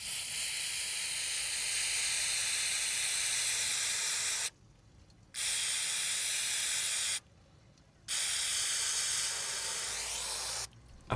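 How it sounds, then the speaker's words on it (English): Brake cleaner aerosol dousing the headlights of a VW MK5 GTI: a steady, close, loud hiss in three long bursts broken by short pauses, with no talking. "using brake cleaner and just absolutely dousing the headlights in it, and it should just start to come off"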